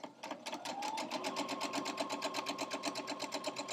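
A sewing machine stitches a quilt block seam with a 1/4 inch seam allowance, running steadily at a fast, even rhythm throughout, close and clear with no talking.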